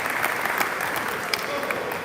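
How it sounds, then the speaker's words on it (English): Applause from a high school awards assembly audience for a middle school group, a brief burst of dense, loud clapping from many hands filling the room. "So you can clap for them too."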